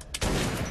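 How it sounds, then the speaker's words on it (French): A gunshot fired in the video game Metro 2033, one loud, sustained burst of blast noise after a brief quieter lead-in. "Ah, j'ai tiré n'importe comment."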